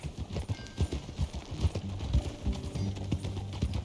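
Horse hooves clip-clopping at a steady walking gait in Red Dead Redemption 2, rhythmic and fairly close, continuous over a faint game backdrop.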